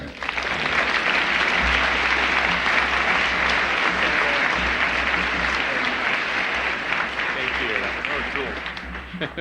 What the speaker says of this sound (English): big round of applause for Google Executive Chairman Eric Schmidt